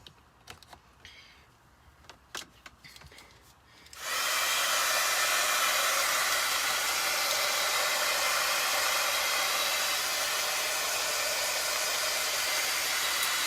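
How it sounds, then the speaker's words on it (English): A heat tool blasts on partway through after a few quiet clicks and handling sounds, then roars steadily and loudly, drying freshly painted chalk-paint craft pieces. "I'm going to go ahead and pull in my heat tool and get these guys all dried up"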